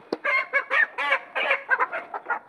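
Chickens being weighed for sale at a poultry farm, clucking and squawking in a steady run of short, loud, overlapping calls close to the microphone, with no talk.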